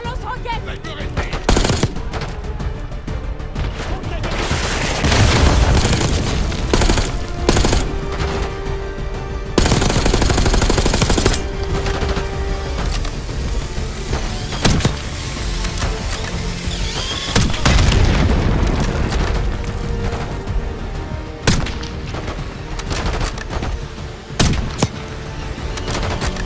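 Call of Duty Black Ops 6 combat roars with loud machine gun bursts, single gunshots and heavy booming explosions, dense and continuous with sharp blasts breaking through, and shouted voices mixed under the fire.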